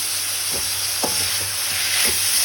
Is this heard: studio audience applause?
no